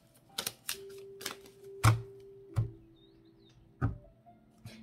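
Oracle cards shuffled and laid down close by, a handful of separate sharp taps and slaps spaced about a second apart over a faint steady hum, no talking.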